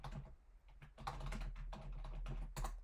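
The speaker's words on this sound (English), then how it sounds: "I'm going to need to retype" Typing on a computer keyboard, a close, steady patter of key clicks in an uneven rhythm, heard on its own without voices.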